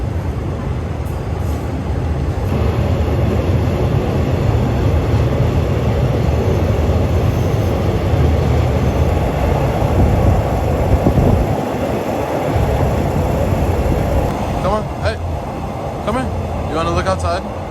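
A Thai express train heading out of Bangkok toward Isan rumbles steadily and loudly throughout, with continuous rail and carriage noise and a high whine overhead, and voices faintly beneath the din.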